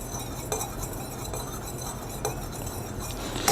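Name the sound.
stirring water and hydrogen peroxide mixture for homemade hand sanitizer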